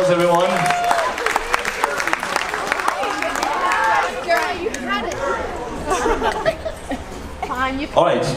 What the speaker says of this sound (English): Give a bigger round of applause, everyone.